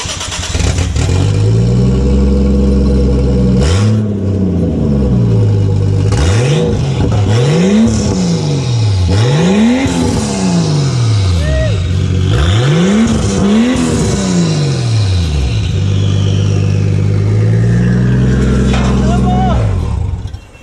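Toyota Supra with a new exhaust fitted from the downpipe back, revving hard in repeated rising and falling sweeps after idling, loud and close, with people talking over it.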